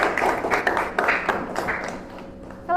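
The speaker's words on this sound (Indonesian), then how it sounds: "Beri tepuk tangan buat kelompok 3." Second-grade classroom giving a brief round of applause for a student group, a burst of scattered claps from many small hands that thins out and fades within a few seconds.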